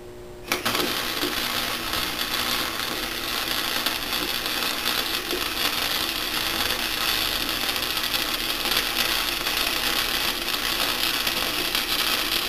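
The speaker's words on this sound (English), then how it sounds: "come in and weld the inside now. Run a couple of beads along the inside," MIG-style welding beads run along the inside of a steel Kydex press frame, a steady close crackling buzz that starts abruptly and holds continuously for the whole stretch with no talk.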